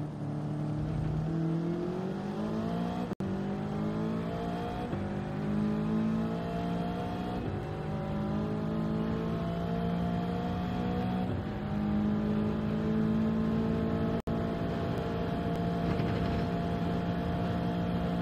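A race car engine in Gran Turismo 7 at Deep Forest Raceway, revving up through the gears in a steady rising whine with brief shift breaks, loud and continuous throughout.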